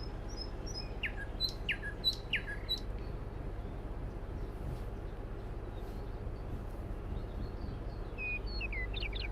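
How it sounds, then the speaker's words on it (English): Bird chirps and tweets from the video game Spirit City Lo-Fi, a cluster of sharp calls early on and a few more near the end over a steady low ambient hum. "We have Spirit City Lo-Fi on for the bird noises, so thank you for that game, for the bird sounds."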